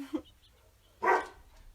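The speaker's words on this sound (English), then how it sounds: "what are you barking at?" A dog gives one short, sharp bark indoors, close and moderately loud, after a faint brief yip and a quiet pause.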